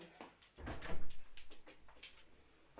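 A house door opens to let a dog out, with a soft thump and scraping rattle followed by a few light knocks and shuffles, fairly quiet and close.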